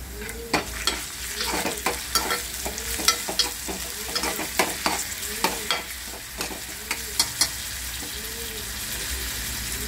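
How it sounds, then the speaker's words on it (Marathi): Ginger and garlic sizzle in a pan while a utensil stirs and scrapes them in a steady, repeated rhythm, faint and close, with the frying hiss running throughout. "अजून होते तर त्यामध्ये आपण अद्रक आणि लसूण हे टाकत आहोत।"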